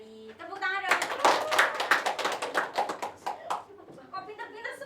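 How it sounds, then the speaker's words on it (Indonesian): Students in a classroom clap hands together, a burst of many quick, sharp claps that starts after a brief voice, rattles on for a few seconds and thins out as talking resumes. "Tepuk tangan dong."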